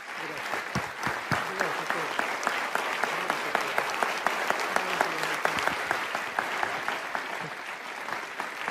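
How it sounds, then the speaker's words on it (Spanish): A church audience breaks into sustained, enthusiastic applause, dense crowd clapping with sharp individual claps standing out throughout, steady and fairly loud. "Ponete de pie que te queremos saludar con un aplauso grandioso."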